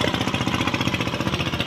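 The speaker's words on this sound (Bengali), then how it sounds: "আর ট্রলারের আওয়াজ চারিদিকে" Trawler boat engines chug on the Meghna river, a steady loud mechanical rumble with rapid knocking pulses that fills the scene without pause and with no voices heard.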